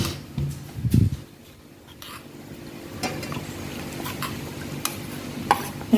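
A spoon stirs and mixes shahi tukda in a pan, with a sharp clink near the start, then quiet scraping and soft sizzling, close and fairly faint, a few louder knocks later on.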